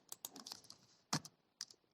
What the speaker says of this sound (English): I will type in the df